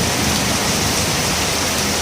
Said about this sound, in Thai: วันนี้มาชมนะครับบรรยากาศฝนตกนะครับผม